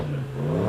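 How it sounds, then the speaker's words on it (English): A car engine at the Goodwood Festival of Speed holds a steady, loud mid-pitched tone that rises slightly, a short close rev with no talk over it. "we'll just give the driver the signal to give it a bit of a rev."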